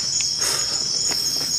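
Crickets chirping in a forest at night, a dense continuous high trill, close and steady, with a few faint rustles and no talk.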